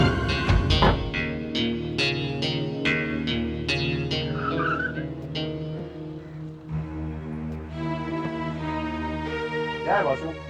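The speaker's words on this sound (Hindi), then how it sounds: "बासु जल्दी कार चलाओ" A car is driven fast with tires squealing and skidding in repeated sharp bursts over a droning engine, up close, with voices speaking through the scene.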